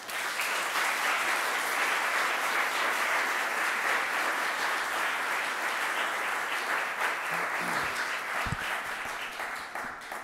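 An audience applauds steadily to welcome author Kevin Powers at a book reading and discussion, a dense, sustained roar of clapping that holds for about ten seconds before tapering slightly.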